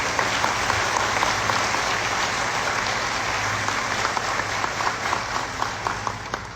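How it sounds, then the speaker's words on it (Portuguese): An audience at a lecture claps steadily, a broad even roar of many hands sustained throughout with a low hum beneath and no talking. "vocês gostam de aplaudir"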